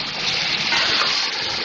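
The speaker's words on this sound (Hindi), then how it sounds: "यखनी में से मैंने गोश्त अलग कर लिया है, अब ये डालूंगी इसमें।" Boiled beef pieces tipped into spiced masala frying in a pan give a loud, steady hiss of sizzling that holds throughout, with no talking.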